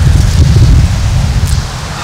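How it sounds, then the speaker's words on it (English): Strong wind buffets the microphone outdoors on a golf course, producing a loud, continuous low rumble with gusty surges and no other distinct sounds. "Of course, windy."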